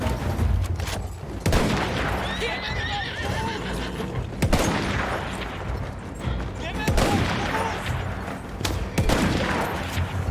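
Rapid bursts of gunfire in a desert battle in the video game Battlefield 1, mixed with loud horse neighs and clip-clopping hooves, the shots recurring in clusters throughout.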